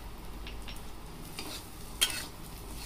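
Spices with a little coriander powder are stirred in a frying pan for paneer do pyaza, with soft scraping strokes over a faint sizzle and one sharper clink of the spoon near the end.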